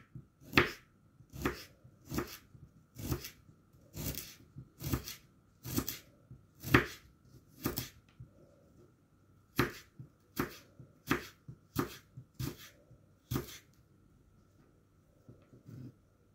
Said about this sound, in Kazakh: Чесногымызды енді майдалап турап аламыз.